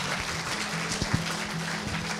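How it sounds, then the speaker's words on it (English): Light, thin applause from a small audience at the close of a talk on robotic cataract surgery, soft scattered clapping over a faint steady hum with a couple of louder individual claps. "Let's give our speakers a big round of applause."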